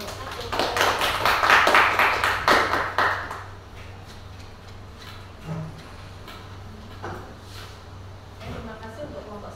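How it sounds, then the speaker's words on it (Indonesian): Group applause for the first team at a university practicum exam session, a burst of clapping over about three seconds that then fades into quieter room noise with a few scattered taps. "Radika beri tepuk tangannya untuk nomor 1."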